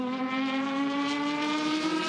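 A National Sports Sedan race car at Mount Panorama, Bathurst, holds a strong, buzzy engine note at high revs that climbs slightly as it drives on, loud and continuous with no talk.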